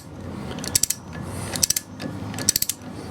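Ratcheting clicks as a front wheel bearing hub nut is tightened on an MGA 1600 restoration, three short bursts of rapid metallic clicks spaced about a second apart, close and clear.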